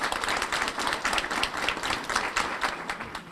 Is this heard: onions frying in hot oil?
no